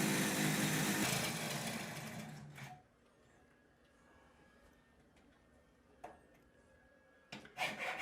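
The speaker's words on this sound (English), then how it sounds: "using the jigsaw to cut the frame" A jigsaw cuts through a metal door frame for an electric strike opening, a buzzing rasp for nearly three seconds before stopping, followed by quiet and a few brief clicks and knocks.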